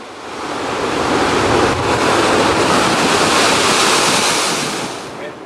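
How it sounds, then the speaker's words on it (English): Wild ocean surf rolls in on a black sand beach in Bali: a loud, steady roar of breaking waves that swells in, holds for several seconds and eases off at the end, with no voices. "looking out over the black sand and the wild ocean"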